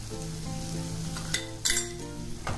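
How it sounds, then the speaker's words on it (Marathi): A masala with Kashmiri red chili sautés in oil, a soft sizzle under a low steady hum, broken by a few sharp clinks and scrapes of a spoon against the pan. "आता आपण हे चांगलं परतून घेणार आहे"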